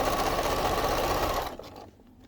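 A sewing machine stitching an apron seam, a fast steady mechanical whirring rattle, close and loud, that stops abruptly after about a second and a half, leaving quiet handling noise.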